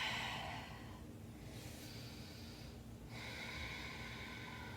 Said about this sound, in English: taking a nice full soft breath here